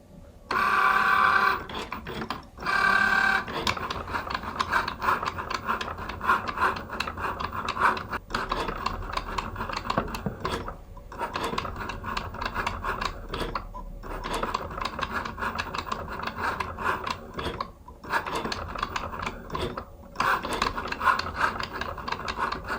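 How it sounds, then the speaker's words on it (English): A Cricut Joy cutting machine cuts a smart vinyl decal with a steady motorized whir and buzz that keeps shifting in pitch as the blade moves. Brief pauses mark changes of direction, and the machine is heard up close with no talking. "put that into the Cricut Joy. And we're going to get started on this cut."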